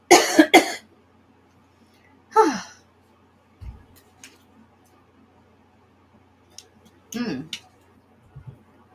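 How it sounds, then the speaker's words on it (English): A few separate coughs, close and fairly loud, with quiet pauses and a soft breath or throat noise between them. "Hold on, I got a cough."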